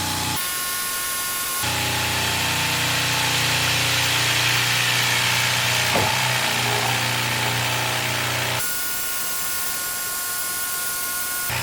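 Lathe cutting metal stock for a Long-EZ aircraft RAM air can SCEET tube adapter, taking off about sixty thousandths under heavy pressure: a loud steady machining whine with motor drone that starts abruptly, runs several seconds, then stops.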